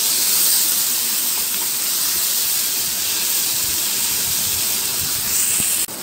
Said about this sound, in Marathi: आपण याच्यात आता टोमॅटो घालूया आणि परत आपण फ्राय करूया.